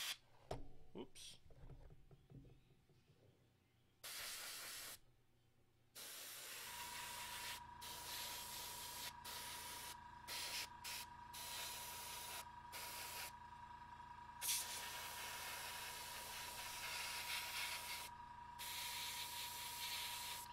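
An airbrush sprays paint onto a miniature model, a steady close hiss that stops and starts in short bursts as the trigger is worked, with a person talking over it at times.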